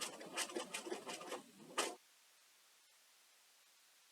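Quiet sewing machine top stitching a striped fabric collar, short pulsing runs of stitches for under two seconds, then silence.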